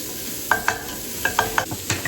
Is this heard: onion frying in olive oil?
yes